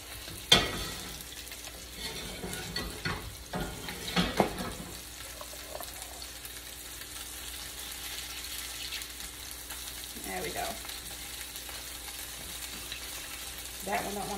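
Meat patties frying in hot oil in a pan, a steady close sizzle running throughout, broken by a few sharp clatters and scrapes as they are moved and flipped.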